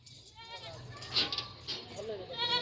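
Goats at a breeding farm bleating, Gulabi Ablak milking goats with their kids, several short wavering cries close by mixed with bustling background activity.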